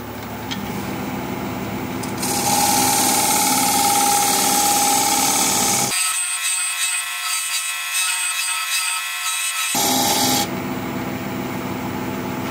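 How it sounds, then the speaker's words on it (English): A wood lathe turns a tenon while a half inch bowl gouge cuts into the spinning wood, making a loud, continuous, rough scraping noise. The tone shifts sharply for several seconds midway, then the cutting noise returns. "for the tenon, I'll use a half inch bowl gouge"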